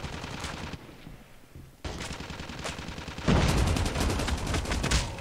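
Automatic gunfire in Call of Duty Mobile, with rapid bursts, a brief lull, then a sustained loud stream of rounds growing denser toward the end.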